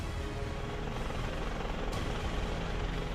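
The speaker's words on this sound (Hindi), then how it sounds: "सुबह हिंडन एयरबेस से उनका हेलीकॉप्टर नोएडा के बोटेनिकल गार्डन हेलीपैड पर उतरा" A helicopter is landing on the Botanical Garden helipad in Noida, producing a loud, continuous rotor and engine roar that holds steady throughout without letting up.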